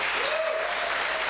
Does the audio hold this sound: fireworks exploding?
no